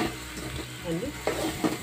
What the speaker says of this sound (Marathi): मच्छी छान परतून घेऊ